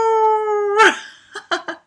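A human voice imitates a dog howling, with one long sustained wavering howl followed by three short yelping whimpers, close and loud.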